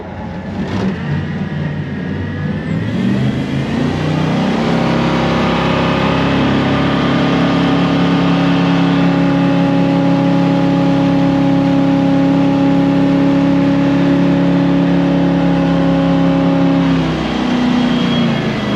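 Main engine of a 1993 Duckworth 24' Magnum boat starts up and runs steadily, a loud, close, even drone with a strong low hum that holds for most of the clip before easing at the end.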